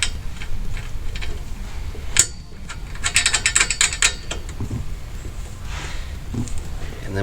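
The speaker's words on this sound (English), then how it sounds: "Then we'll take the supplied nut, thread it on the back side." Ratchet clicking in quick bursts while the supplied nut is threaded onto a bolt securing a rear bumper bracket to the frame of a Polaris RZR Pro XP, close up, with someone talking.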